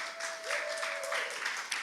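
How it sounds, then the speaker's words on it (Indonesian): A congregation at a Jakarta church service applauds steadily throughout, with a faint sustained tone under the dense clapping. "Kasih tepuk tangan buat Tuhan Yesus"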